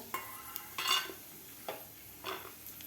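Dry fruits frying in ghee in a pan, heard as a few soft scrapes and clinks of a spoon stirring against the metal, spaced irregularly, with a faint sizzle underneath and no talking.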